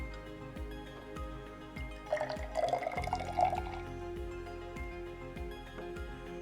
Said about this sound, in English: I'm going to put the water into this boiling tube here.